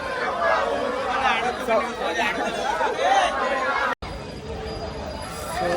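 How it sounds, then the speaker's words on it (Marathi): A crowd gathers at a Ganpati immersion, a dense, continuous babble of many voices nearby with a brief cut near the end. "गर्दी बघू शकता तुम्ही किती"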